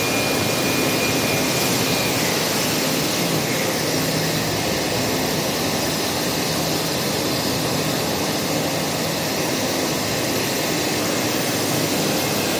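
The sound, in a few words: melt blown machine air blower running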